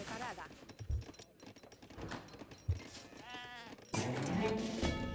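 Sheep bleat in Age of Empires III during a Spain match, a few wavering cries rising over clicking game effects while someone talks throughout.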